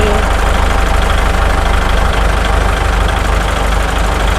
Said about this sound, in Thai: เครื่องยนต์ปกติเครื่องไม่หลวมนะคะสำหรับรถรุ่น L5018 นะคะ